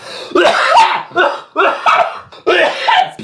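A string of harsh coughs in four bursts, close and loud, each one rough and breathy with short pauses between them.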